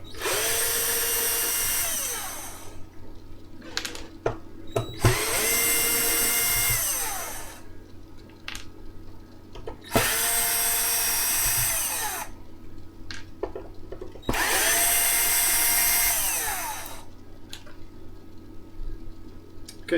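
A cordless drill run on 10.2 volts whirs in four loud bursts of about two and a half seconds each, separated by short pauses filled with clicks and faint handling noise.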